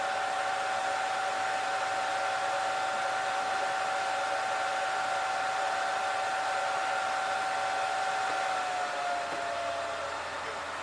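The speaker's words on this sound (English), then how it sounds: "right now the system is flushing out that heat with the cross flow fan here" A cross flow fan on a Honton HT-R490 reflow station cools a circuit board, a steady whooshing airflow with a constant whine that drops slightly in pitch near the end as the fan slows, close and continuous.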